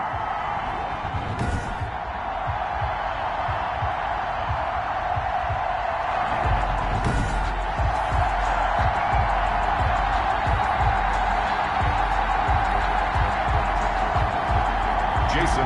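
A stadium crowd in an American football video game, Jacksonville Jaguars versus the home team, roars as a steady wash of cheering, with rhythmic stomping or clapping thuds building in the second half.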